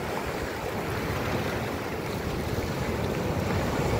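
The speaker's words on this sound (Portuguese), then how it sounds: "As ondas?" Ocean waves washing onto a beach at Itacaré, heard as a steady broadband roar of surf and wind noise that holds throughout without pause.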